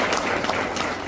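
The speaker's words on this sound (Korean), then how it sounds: "박수 한번 쳐주세요." A brief burst of clapping from attendees at a town meeting in Maseong-myeon, Mungyeong, a dense, even patter lasting about a second with no talk.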